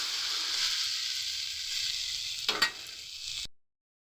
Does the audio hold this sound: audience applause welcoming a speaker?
no